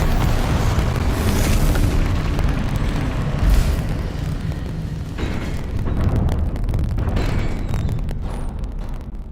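Confringo fire spell explosions in the Hogwarts Legacy video game, a dense continuous roar of booming blasts and crackling bursts, loud and layered throughout with a sharp hit a few seconds in.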